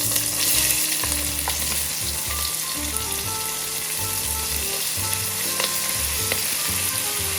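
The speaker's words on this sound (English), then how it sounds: "you're going to take 3 medium-sized onions, chopped roughly, and add them to this fat" Roughly chopped onions fry in a mix of bacon fat and oil for a beef pot roast, a steady, fairly loud sizzle with a few soft stirring sounds running through the whole stretch.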